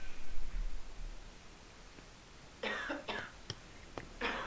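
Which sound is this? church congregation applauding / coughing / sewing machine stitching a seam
coughing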